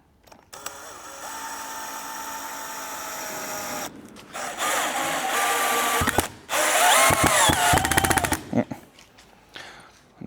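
A DEWALT entry-level drill set to speed 1 whirs loudly as it drives Phillips screws, the bit slipping out in bursts with abrupt stops and restarts and rattling clatter between runs.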